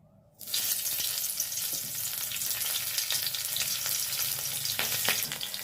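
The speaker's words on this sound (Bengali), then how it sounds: "কড়াইতে তেল গরম বসিয়ে দিয়েছি দিয়ে দেবো ফোড়ন কালো জিরে নিয়েছি আর কাঁচা লঙ্কা নিয়েছি" Nigella seeds and green chilies hit hot oil in a wok and burst into a loud, dense sizzle that starts abruptly and then holds steady with crackles, close up and without talk.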